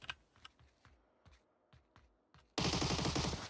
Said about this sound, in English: Gunshots being made as Kabuki was spotted entering school buildi